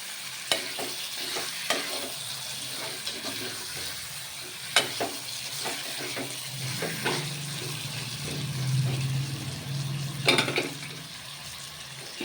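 Mutton cooks in a little oil and is stirred while the meat's released water cooks off, a continuous close sizzle broken by scraping stirs and occasional clinks of utensil against pot, with no voices.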